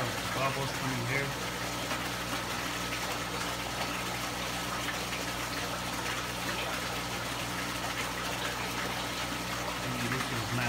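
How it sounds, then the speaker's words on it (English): Constant low hum of a water pump with bubbling, gushing water circulating in a home-built shad livewell, soft and steady throughout under quiet talk. "Bubbles coming here."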